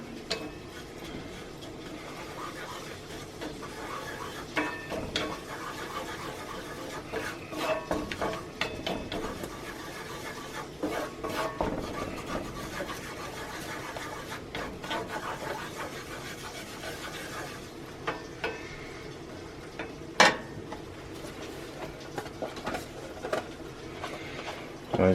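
Flour being stirred into bacon grease in a cast iron pan for gravy, with soft scraping, ticking and rubbing sounds repeating irregularly, faint and close, with a few sharper clicks.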